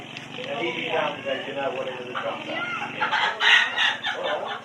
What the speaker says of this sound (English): the chooks, the roosters